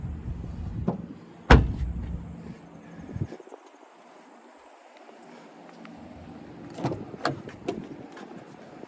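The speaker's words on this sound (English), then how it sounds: "I'm gonna show you how the seat folds down." Rear seat of a 2025 Toyota Camry LE folding down inside the car, with a sharp latch clack, rustling thumps of the seatback, and further clunks and shuffling toward the end.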